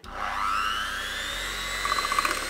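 An electric hand whisk beats an egg mixture for brownies, a close steady motor whir with a rising pitch and light rattling against the bowl, without talk.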